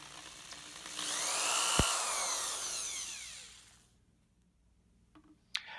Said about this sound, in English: I'll drill the correct size hole just by eyeballing the position